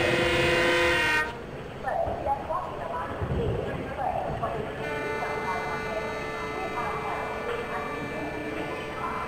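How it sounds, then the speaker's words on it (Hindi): The 22916 Hisar–Bandra Terminus SF Express locomotive, running from Mehsana toward Ahmedabad, sounds a loud, close, sustained horn blast that cuts off abruptly. Low rail rumble follows while someone talks. "तो चलिए एक बार हम भी हॉर्न बजा देते हैं।"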